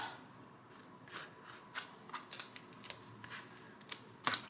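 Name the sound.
X-Acto knife cutting vinyl on a cutting mat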